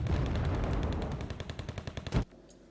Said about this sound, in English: who's firing ATACMS?